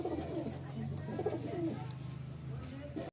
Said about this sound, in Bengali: আর এই ঘরটা দেশি পায়রা, এইগুলো দেশি পাট্টা